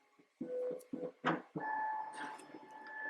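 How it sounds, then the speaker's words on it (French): A home printer wakes up on its own with a few short mechanical whirs followed by a sustained motorized hum, heard close and fairly quiet in a still room. "Ce que vous entendez, c'est mon imprimante."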